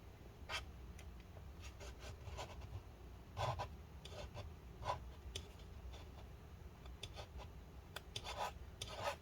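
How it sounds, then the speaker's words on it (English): A razor blade scrapes adhesive residue off the inside of a 13-inch late-2013 MacBook Pro A1502 during battery replacement, producing faint, close, repeated short scratchy strokes at an irregular rhythm. "now let's scrape that stuff up"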